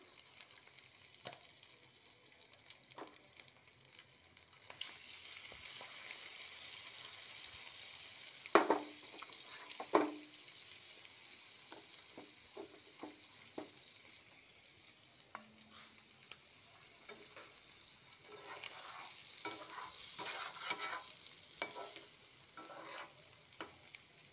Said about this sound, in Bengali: এটা শ্যালো ফ্রাই হবে, ডিপ ফ্রাই হবে না।